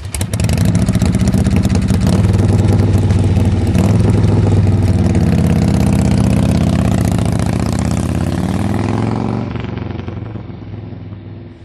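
A custom chopper's 120-inch Ultima engine, with a two-barrel Weber carb, chain drive and open belt primary, runs loud and close in a thick, steady rumble that tails off in the final seconds.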